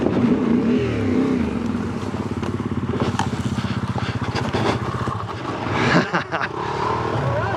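A BMW adventure motorcycle being ridden off-road, its engine droning and pulsing steadily with rising and falling revs, fairly close, with a voice speaking over it at times.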